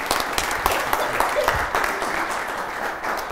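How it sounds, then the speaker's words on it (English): Studio audience applause on a televised Johnny Carson talk show, a steady close wash of clapping that holds at an even level for a few seconds with some crowd noise mixed in. "Could we have a round of applause for both of these guys?"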